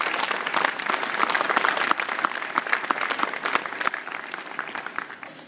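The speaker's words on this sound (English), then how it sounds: "So if we can just give them a real quick round of applause." A room full of people claps steadily for several seconds, dense and even, tapering off slightly toward the end.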